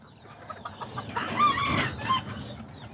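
Azteca and Serama bantam chickens cluck and call close by in a steady stream of short, bright notes, rising briefly in the middle with a louder, drawn-out call over a faint yard background.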